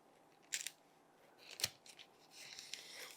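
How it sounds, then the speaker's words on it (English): A big long knife cuts a low-carb cookie brownie bar in half in a kitchen. A few quiet, crisp slicing and scraping bursts sound close by with no talk. "Now we're going to cut this in half. Got a big long knife here."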